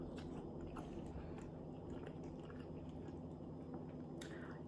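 Quiet, close chewing of an egg cooked in spicy noodle broth, soft squishy bites with low background hum and no talking.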